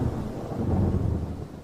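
Thunderstorm sound effect in a narrated ghost story: a deep, steady rumble of thunder with a rain-like hiss, loud and continuous and without any voice over it.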